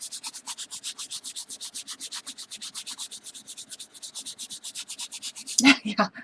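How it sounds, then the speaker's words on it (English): A wooden box is hand-sanded even with fast, regular back-and-forth strokes, close and steady for about six seconds, ending with a louder scrape or knock. "I'm going to sand it all the way down."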